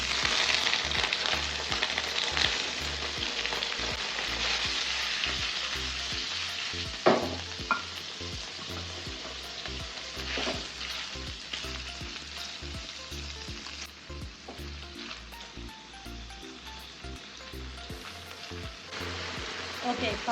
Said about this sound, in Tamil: நெய் சேர்த்து பன்னீரை லைட்டாக ஒரு நிமிஷத்துக்கு அப்படியே ரோஸ்ட் பண்ணிக்கலாம்